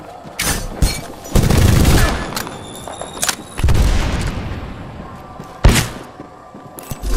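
Bursts of video game gunfire in a sci-fi battle, with several loud booming volleys spaced a few seconds apart over steady background noise, then a sharp blast near the end.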